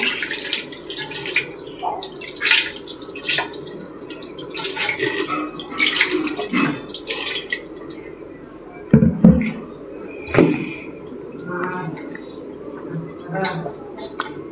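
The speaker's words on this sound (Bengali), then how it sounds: "হাতটা ধুয়ে দিই।" Hands are rinsed under running water after mixing mutton for cooking. The splashing comes in intermittent close bursts, with talking around it.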